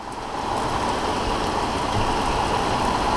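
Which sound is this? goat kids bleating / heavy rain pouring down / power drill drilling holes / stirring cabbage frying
heavy rain pouring down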